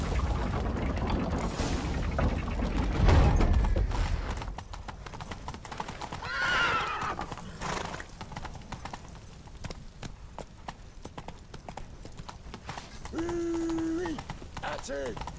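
Horses galloping in The Witcher III, rapid hoofbeats drumming under shouted dialogue and game sounds, with a neigh and clanking mechanical noises.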